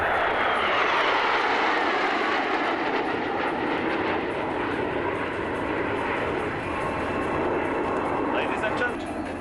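Swiss Air Force Patrouille Suisse jets flying a formation display at an airshow at Fairford, a loud sustained roar that sweeps and slowly fades, with a commentator talking over it.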